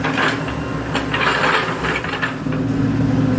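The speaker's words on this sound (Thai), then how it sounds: "นี่คือรถแมคโครนะครับเครื่องจักรขนาดหนักนะครับกำลัง ทำงานนะครับ" An excavator building a flood embankment of sandbags and big bags beside a river, grinding and clanking mechanically with a steady engine rumble underneath, loud and continuous.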